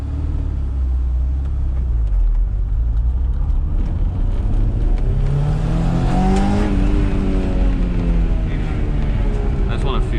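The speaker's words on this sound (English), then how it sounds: "I just want to feel the acceleration." Honda S2000 sports car accelerating, its engine note climbing steadily in pitch with a loud continuous rumble and road noise inside the cabin.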